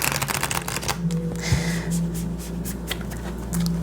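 Nightmare Before Christmas tarot cards being shuffled by hand: a run of quick papery riffles and flutters up close, then softer slides and taps against a faint steady background hum.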